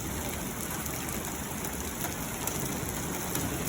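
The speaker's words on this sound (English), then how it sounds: "it's hailing, boys." Hail pelting down during a severe thunderstorm in central Illinois with lightning but no wind, a dense, steady patter of small stones close by and continuous throughout, no voices.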